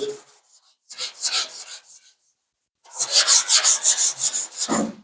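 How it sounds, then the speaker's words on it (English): Sandpaper rasps back and forth by hand over a panel coated in 2K primer, in close, rhythmic strokes: a few short passes, a pause, then a steady run of about a dozen quick strokes. "We'll sand it till that's gone."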